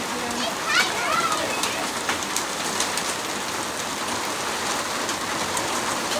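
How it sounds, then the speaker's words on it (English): Hail pelting down during a hailstorm in Newcastle, New South Wales, a dense steady clatter of small impacts across the whole stretch, with people talking faintly in the background. "Yeah, it's hailing."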